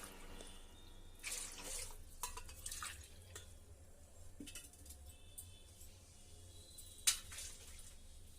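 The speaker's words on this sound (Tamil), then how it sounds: "ஒரு பாத்திரம் வச்சு 5 டம்ளர் தண்ணி ஊற்றிக்கோங்க" Water pours and splashes into a metal pot for sugar syrup in a home kitchen. Faint metallic clinks and knocks sound in short bursts, with no one speaking.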